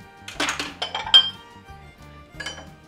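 Metal clinks and clatters as a small pan is set on a kitchen stove, several short sharp knocks within a couple of seconds, close and alone.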